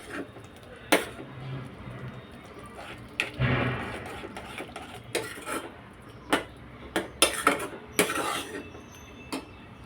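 A spoon scrapes and clinks against a pan while pasta sauce with tomato ketchup is stirred, giving irregular sharp metallic knocks over soft background noise.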